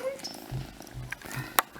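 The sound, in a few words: kitten purring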